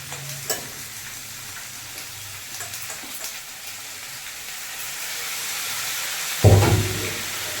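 Marinated chicken frying in a kadai sizzles steadily while a spoon stirs and scrapes, with a louder clatter near the end; nobody speaks.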